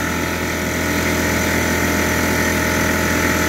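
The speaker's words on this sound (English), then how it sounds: "It started, but it's not running at full speed." An air compressor running on transformer power hums and thrums loudly at close range, a continuous motor drone with a pulsing beat that suggests it is turning slower than full speed, with no talking.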